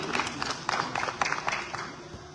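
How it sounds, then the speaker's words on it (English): Scattered applause from a modest audience at a Ugandan presidential debate, uneven claps rising and fading, with a voice faintly underneath. "A round of applause for you."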